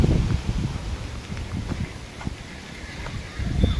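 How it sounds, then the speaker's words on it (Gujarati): Strong wind blows outdoors near a garden where a fallen tree once stood, buffeting the microphone in heavy low rumbling gusts. The gusts ease in the middle and swell again at the end. "આ જોવો પવન તો જોવો કેટલો પવન આવે છે"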